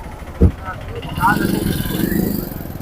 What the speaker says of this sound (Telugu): రోడ్డు వెడల్పు చేస్తున్నారు కాబట్టి ఇది పక్క ట్రాఫిక్ అంతా ఎక్కువ ఉంటుంది.